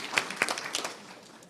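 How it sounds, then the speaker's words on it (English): A brief round of applause at a school board meeting, scattered hand claps with a few sharper spikes that thin out and fade within a second and a half. "we can still give him a round of applause"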